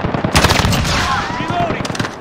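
Rapid automatic gunfire from a Call of Duty Modern Warfare team deathmatch hammers close and loud, with a dense burst early that trails into scattered shots, and a shouted in-game voice over it.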